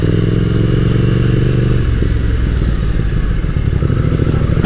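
A Triumph Speed Twin 1200 motorcycle is ridden up close with a loud, throbbing twin-cylinder engine note. The pulses turn rougher as the bike speeds up, and light clatter sounds over a steady rush of wind.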